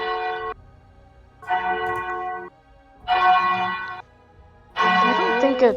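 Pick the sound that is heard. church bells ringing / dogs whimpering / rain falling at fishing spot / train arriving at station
church bells ringing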